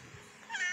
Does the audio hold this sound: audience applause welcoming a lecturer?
no